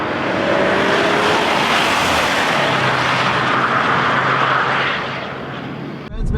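A Volvo V60 T8 Polestar Engineered accelerates wide open on a track, its engine and wind noise swelling into a loud, steady roar before easing near the end.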